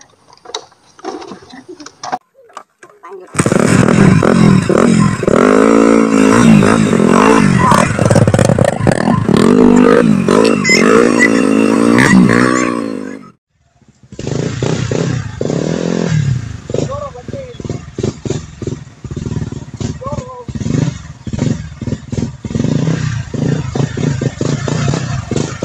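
A motorcycle rides through an oil palm plantation, its engine droning loud and close with revving swells, a brief cut, then rattling and clattering on the rough track as someone talks.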